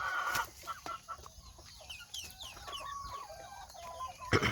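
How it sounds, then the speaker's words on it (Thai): Young fighting roosters and hens in a farm flock in Pak Chong, Korat, clucking in short bursts with a few crowing attempts, fairly close and free of speech. "ตัวผู้สามโต ก็ เสียงดีนะครับ ฝึกหัดขันบ้างแล้วนะครับ"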